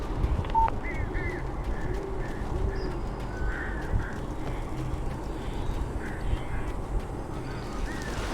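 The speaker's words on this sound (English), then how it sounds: "These birds are weird." Several birds caw and squawk in short bursts within the Alan Wake video game, scattered calls repeating over a steady low ambient rumble with faint voice-like sound beneath.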